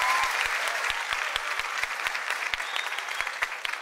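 A theatre audience at an Africa's Got Talent semi-final gives performer Clark Keita another round of applause, steady and fairly loud, with sharp individual claps standing out from the crowd.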